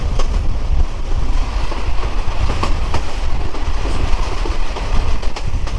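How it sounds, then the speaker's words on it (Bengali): A Burimari commuter train hauled by a 2900 series locomotive rumbles past close by, a loud continuous roar with rattling wheel clatter and wind noise, steady throughout with no voices. "আমাদের উনত্রিশশো সিরিয়ালের লোকোমোটিভ নিয়ে যাচ্ছে বুড়িমারি কমিউটার ট্রেন"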